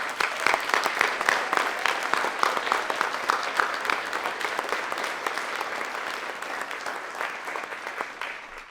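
Audience at a university distinguished alumni awards ceremony gives a sustained round of applause, dense steady clapping from a large crowd that holds for several seconds and then begins to fade.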